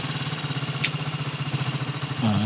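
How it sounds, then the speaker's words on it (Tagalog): A small engine with a worn carburetor insulator idles far too low, a rough pulsing chug that keeps a steady uneven rhythm, then changes near the end as it falters and dies. "namamatay na po ang makina sa sobrang baba po ng kanyang minor"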